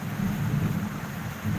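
Thunder from a strong lightning storm, heard as a continuous low rumble with a steady roar that stays loud for the whole stretch, mixed with some wind buffeting and no voices.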